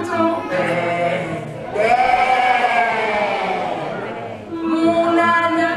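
A group of voices sings a French nursery rhyme and imitates a sheep's bleat, a sustained wavering baa held for several seconds, mid-distance in a hall with a crowd.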